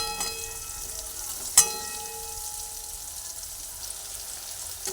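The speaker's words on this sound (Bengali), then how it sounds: "কাঁকড়গুলোকে একটু উল্টো পাল্টে নিয়ে ভেজে নিচ্ছি কিন্তু খুব কড়া করে ভাজবো না" Teasel gourd (kakrol) pieces frying in oil and being turned over, a steady close sizzle with a single sharp clack of utensil against pan near the start, no speech.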